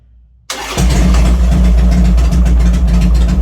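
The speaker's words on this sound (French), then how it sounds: "On va faire ici et puis on teste le démarrage." A Harley-Davidson Sportster motorcycle engine fires up abruptly after a brief near-silent pause, catching at once and settling into a loud, steady, throbbing idle that fills the rest of the moment with no one speaking.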